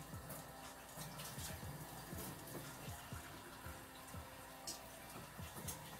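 Warm water runs steadily from a kitchen tap into a pan for homemade bread dough, a soft continuous hiss and gurgle, faint and unbroken.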